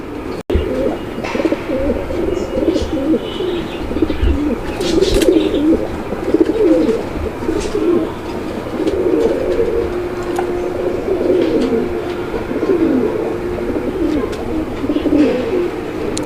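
Black checker racer pigeons coo steadily and close by, a continuous rolling murmur of several birds with occasional chirps and a brief flutter.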